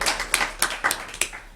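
A handful of people at a school governing board meeting clap sparsely, with only a few distinct hand claps spaced irregularly and nearby, no full burst of applause, with little talk.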